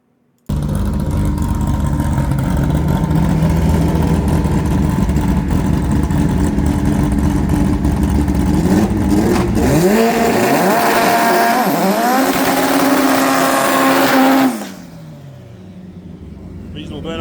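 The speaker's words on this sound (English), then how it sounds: "Reasonable burnouts by both." Drag racing cars doing burnouts at a drag strip, a loud sustained roar of engines revving hard with rising and falling pitch for about fourteen seconds, then dropping away to a lower rumble, with voices partly under the noise.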